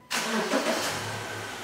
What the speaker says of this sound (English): All right, so let's first start our engine.